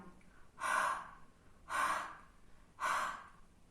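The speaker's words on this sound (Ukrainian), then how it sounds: "Погрій ти свої долоньки, подуй на них теплим повітрям." Three slow, breathy exhalations, evenly spaced, like someone blowing warm air into cupped hands at close range.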